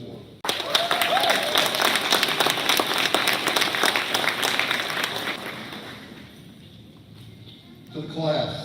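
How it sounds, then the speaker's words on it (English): A crowd breaks into loud, dense applause for a basic law enforcement class that holds for several seconds and then fades, followed by a voice starting to speak. "give your family and friends a round of applause for their support"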